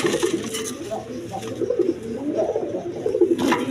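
Rajgolla pigeons, a male and a female pair, coo in soft repeated rolling phrases close by, while someone talks over them throughout.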